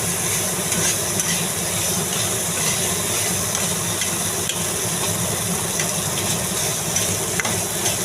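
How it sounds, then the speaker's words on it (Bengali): Spices and potatoes frying in a pan with a little water, a dense continuous sizzle and hiss with faint scraping ticks, close and steady throughout without speech. "দেখুন, ভাজা ভাজা হয়ে যাচ্ছে।"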